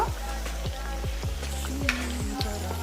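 Taro root pieces deep-frying in oil make a continuous close sizzle with soft bubbling, over a low steady hum with repeated falling tonal sweeps.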